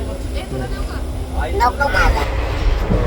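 A steady rumble and rattle inside a moving passenger train between Badlapur and Pandharpur, with people talking over it nearby.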